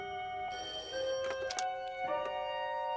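A landline telephone rings in a Hong Kong police drama, a bright repeating electronic bell pattern that starts after a quiet moment, with a few soft knocks in the room and no one speaking.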